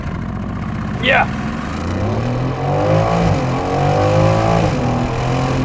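Aston Martin Vantage F1 Edition engine revving and accelerating hard from a launch-control start, a loud rising roar that builds and holds close by, with a brief shout from a person at the start.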